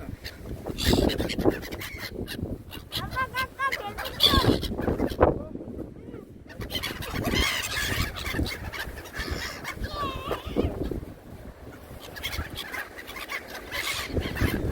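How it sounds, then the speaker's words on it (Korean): Seagulls flock at Gangneung harbor, giving repeated squawking and mewing calls near and far in bursts, mixed with people talking and exclaiming around them. "이쁘네요, 갈매기들이."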